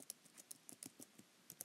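Typing on a computer keyboard, a quiet, close run of about a dozen crisp key clicks at an uneven pace, alone with no talking.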